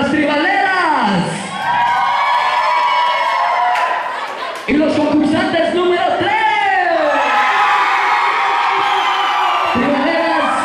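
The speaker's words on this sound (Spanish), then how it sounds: "otra vez vamos a ver el grito para las tribaleras" A crowd at a live contest event yells a loud chant for the Tribaleras, sustained shouting and whooping that swells, breaks off briefly and surges again, with a host's voice over it.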